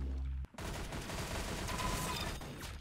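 Gunfire in the Roblox shooter Arsenal: after a short silent gap, a dense, continuous rattle of rapid shots rolls on at steady loudness.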